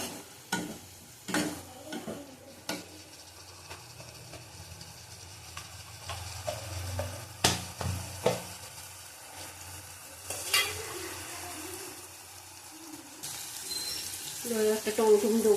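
Kashmiri chilli powder and spices being sautéed in a pan with a spatula, with soft sizzling and intermittent scraping strokes, close and moderately quiet, punctuated by a few sharp clanks and brief water-like splashes.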